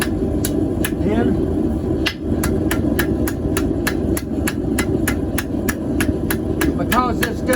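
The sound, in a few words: hammer forging a thin hot steel cooking hook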